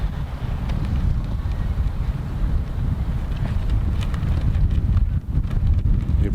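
Strong crosswind on a disc golf course buffets the microphone in a constant low roar, gusting unevenly throughout, with no one speaking.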